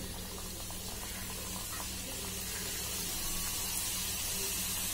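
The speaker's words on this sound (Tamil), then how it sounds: "போட்டு மீடியம்லேயே வச்சு நம்ம ஃப்ரை பண்ணிக்கலாம்" Samosas fry in hot oil in a kadai over a medium flame, making a continuous, even sizzling and bubbling hiss at close range with no speech.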